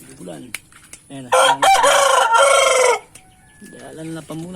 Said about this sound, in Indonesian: Kokokannya masih muda.